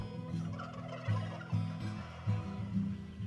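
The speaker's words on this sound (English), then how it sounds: "Only toms gobble, the females make clicking noises." A turkey tom gobbles repeatedly in rapid, rattling bursts, loud and close, with several calls overlapping in quick succession.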